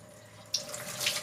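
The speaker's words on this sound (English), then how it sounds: "I have gravity-fed water. Now, my water doesn't run very fast, but it's fine for what I need." Gravity-fed water runs slowly from a tap at a self-reliant homestead, a quiet steady trickle and splash that swells slightly partway through, with no talking.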